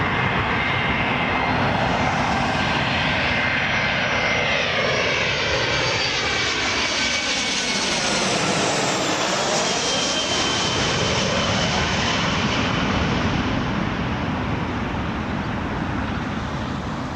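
An airliner lands on runway 24 right at Toronto Pearson International Airport in the evening, its engine roar swelling as it nears, peaking overhead with a sweeping pitch shift, then receding, loud and steady over distant traffic.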